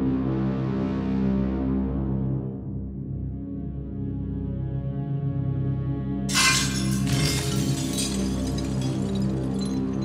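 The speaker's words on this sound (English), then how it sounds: "it just sounded like hundreds of plates just crashing to the floor" Sudden loud crash of glass or crockery shattering, like many plates smashing onto a kitchen floor, bursting in after a low droning sound effect and clattering for several seconds.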